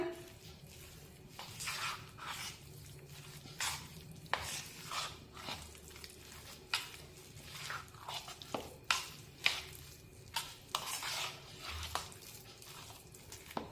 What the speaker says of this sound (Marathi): आता सर्व भाज्या बॅटरमध्ये व्यवस्थित मिक्स करून घेऊया